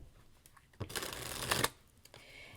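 Quiet riffle-shuffle of a Journey of the Heart card deck, a single soft rushing burst of about a second between faint handling rustles, close and with no talking.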